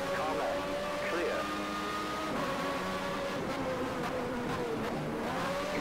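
Simulated 1994 Formula 1 car with a Mercedes engine racing in the Automobilista game, its high-pitched engine whine shifting steadily through gears, continuous and fairly loud, with someone talking over it.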